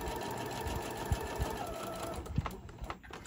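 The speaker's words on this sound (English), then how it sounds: "I'm just going to use that as a guide and sew straight down" A sewing machine stitches a straight seam through fabric for a small zippered box pouch, its rapid mechanical whirr running close and steady with a few sharper thumps, with no voices.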